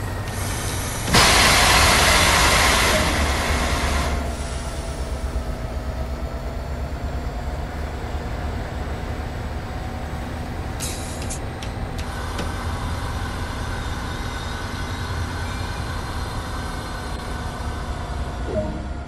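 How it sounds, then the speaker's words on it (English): In Train Sim World 2, the Boston Sprinter's automatic brake goes into emergency: a sudden loud burst of rushing air hisses for a few seconds, then settles into a steady rumbling train drone that continues to the end. "Move the automatic brake into emergency."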